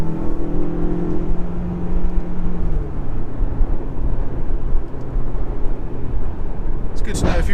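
A 2021 Mercedes GLA200's engine drone rises as the car is pushed hard around a tight corner. A broad, steady roar holds throughout, and a voice talks over it.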